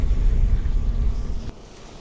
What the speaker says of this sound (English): Oh, it's quite windy.